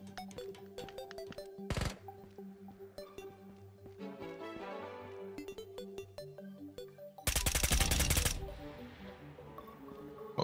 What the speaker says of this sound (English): What was he shooting at?